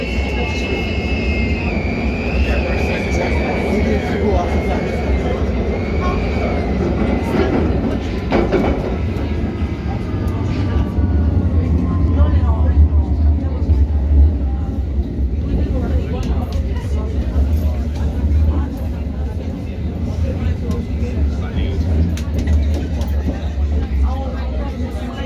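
A London Underground Metropolitan line S8 Stock train running between Moorgate and Wembley Park, steady low rumble with a high whistling tone gliding and fading, heard from on board, with an announcement voice in places.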